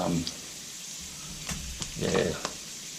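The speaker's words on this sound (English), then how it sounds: "There go my seeds starting to pop." Mustard-type seeds popping in hot oil with curry leaves for homemade samosa filling, a soft steady sizzle broken by several sharp little pops and crackles over about three seconds.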